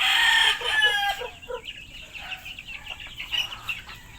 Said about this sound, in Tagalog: Feeding time naman tayo ng ating mga manok.